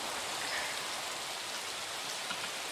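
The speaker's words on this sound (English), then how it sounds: "it's just raining" Steady rain falls in a continuous soft hiss in Minecraft, not a thunderstorm, with no voices or other sounds over it.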